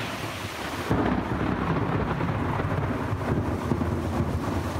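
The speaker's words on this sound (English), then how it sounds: "Claps of thunder like that woke up people all over the metro and into North Georgia" Thunder claps rumble through a thunderstorm in north Georgia over steady rain, loud and continuous with a sharp crack near the start.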